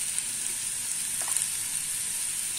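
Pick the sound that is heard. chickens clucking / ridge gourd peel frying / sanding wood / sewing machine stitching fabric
ridge gourd peel frying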